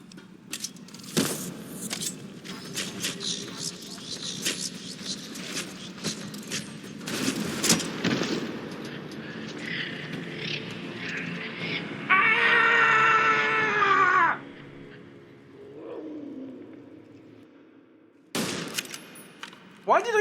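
Player gunfire in Fallout New Vegas: sharp, loud shots punctuate a busy scene of clattering effects, with a sustained tonal burst in the middle and a final pair of close cracks near the end.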